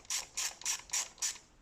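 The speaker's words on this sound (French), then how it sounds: "clé 10, cliquet 10, on dévisse dans le sens contraire des aiguilles d'une montre" A 10 mm ratchet clicks in five quick, evenly spaced bursts while unscrewing a spark plug on a Fiat 500X, crisp and close, with no talking.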